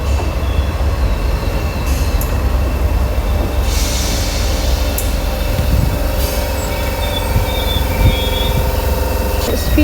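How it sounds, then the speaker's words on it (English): A ScotRail train, unit 32310, bound for Lanark runs steadily through Motherwell station, with a continuous loud rumble of wheels on rails, faint squeals and light clicks, and no voices over it. "ScotRail service to Lanark."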